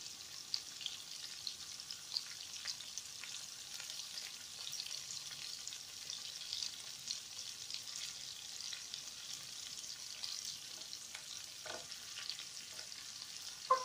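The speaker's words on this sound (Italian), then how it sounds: "Adesso andiamo ad aggiungere i pomodorini." Meat strips sizzle steadily in a hot pan as cherry tomatoes go in, a dense bright frying crackle with a few louder pops and stirring scrapes near the end, no talking.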